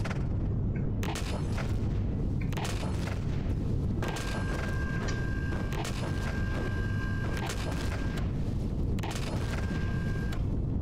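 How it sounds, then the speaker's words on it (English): Base turrets in the Empyrion video game hammer away at enemy troops, a relentless barrage of heavy booming shots and rattling fire that runs loud and unbroken throughout. "I think my turrets are shooting troops"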